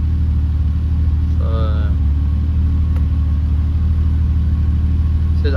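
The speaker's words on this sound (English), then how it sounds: "just started the car, oil pressure's right" A Ford Barra turbo engine idles in a Nissan Patrol with a steady, loud low rumble close by, while someone talks briefly over it.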